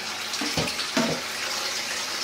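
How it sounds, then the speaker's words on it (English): Cold tap water pours into a bowl, a soft continuous splashing with a few brief louder gurgles early on, fairly close and with no talking. "I'm going to fill this bowl here with cold water"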